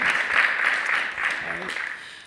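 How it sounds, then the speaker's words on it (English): An audience at a Minnesota dance lecture claps in a brief, continuous burst of applause, fairly close and fading slightly toward the end, with voices mixed in. "So let's clap."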